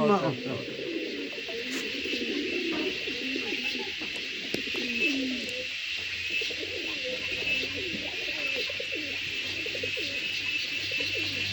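Norwich pouter pigeons at a farm give repeated soft, throaty coos in close, rolling phrases over a steady background hiss.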